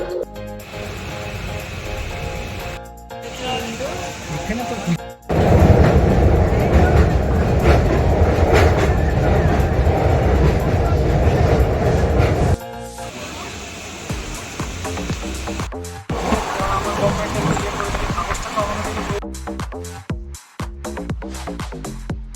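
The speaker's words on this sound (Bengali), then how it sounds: "শিয়ালদা থেকে ট্রেন ছেড়ে দিয়েছে এনজিপির উদ্দেশ্যে" Teesta Torsa Express rolling from Sealdah toward NJP, loud continuous wheel rumble and clickety-clack heard from inside a coach, swelling as a door opens and dropping in sharp cuts, with occasional talk.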